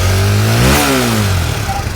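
A 2013 Kawasaki Ninja with about 49,000 km on it runs loud and close, its engine revving up to a peak then settling back toward idle in a rough, throbbing tone.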